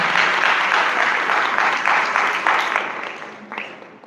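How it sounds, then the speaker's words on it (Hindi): A church congregation claps together at a lively worship service. The applause is loud and dense, then gradually fades away toward the end. "आपकी तालियां छोटी है चर्च।"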